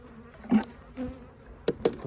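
Honey bees from an opened overwintered hive buzz faintly and close by, sounding as a few short passes and brief buzzes over a quiet background.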